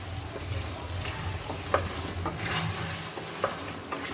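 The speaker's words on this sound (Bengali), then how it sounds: "এবার এটাকে আমি ভালো করে মিক্স করে নেব।" Pui shak with rui fish head sizzles softly in a pan while a spatula stirs it, producing a few distinct scraping taps over a low, steady fry; no one speaks.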